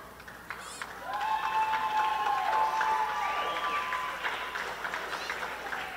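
Hong Kong travelling supporters at an Asia Rugby U18 Sevens girls' match applaud a player leaving the field, a sustained wash of clapping and crowd noise in a stadium, with a commentator-like tone and faint whistles over it.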